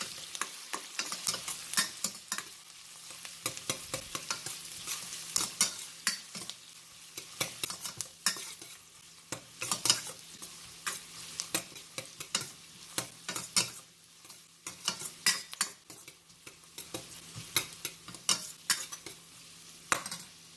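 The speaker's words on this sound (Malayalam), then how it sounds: "സവാള ഇട്ടിട്ട് നല്ലപോലെ വഴറ്റണം." Onions sautéing in a pan for tomato rice, a continuous close sizzle broken by frequent scraping stirs of a spoon against the pan, fairly busy and even throughout, with no voices.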